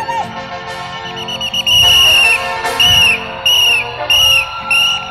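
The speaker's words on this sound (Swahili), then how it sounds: "Piga filimbi, piga filimbi." Crowd members at a public gathering blow whistles in loud, shrill blasts, several overlapping in short repeated bursts over a background of crowd noise.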